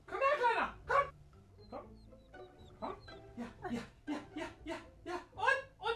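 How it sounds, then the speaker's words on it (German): Dogs in a VR video game give a series of short, rhythmic yaps and barks at close range, repeating roughly every half second, with someone speaking between them. "Zwei Hunde haben sich getroffen, meine Damen und Herren."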